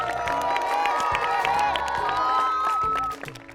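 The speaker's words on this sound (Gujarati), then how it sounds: "જોરદાર તાળીઓ થઈ જાય." Applause and cheering from a school audience at a Game Zone event at Ranip Saraswati School, with crowd noise, whoops and children shouting that stay dense and loud for about three seconds, then quickly fall away.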